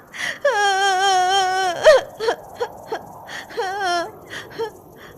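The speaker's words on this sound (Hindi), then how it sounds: "वह जोर जोर से रोने लगी।" A girl cries loudly in sustained, wavering wails broken by gasping sobs and short whimpers, close and alone.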